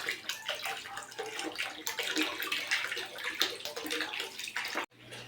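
A weak stream of water runs from a household tap fed by a water pump, a steady close splashing flow into a container that cuts off abruptly near the end.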